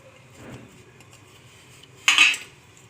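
A utensil clinks against a bowl while egg batter with spices is mixed, giving a faint scrape early on and then a sharp, loud clatter near the end, close up and without talk.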